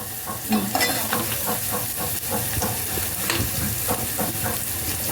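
Asafoetida (hing) sizzles in hot oil for moong sambar, a steady crackling fry with stirring scrapes and bubbling pops, close and continuous without voices.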